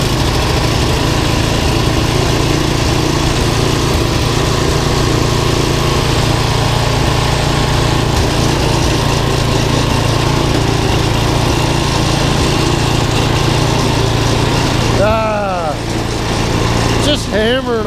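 A small gasoline snowblower engine runs steadily and loudly for most of the stretch, with faint voices underneath, then briefly dips and sputters near the end.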